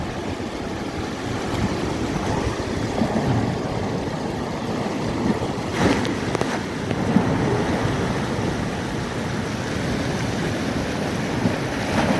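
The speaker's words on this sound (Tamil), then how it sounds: "வர வர அலையின் அளவு வந்து கூடி கொண்டு போகுது" Giant sea waves churn and crash at Point Pedro on the coast after a cyclone, a continuous loud roar of surf and wind noise with a slightly heavier surge midway, no voices.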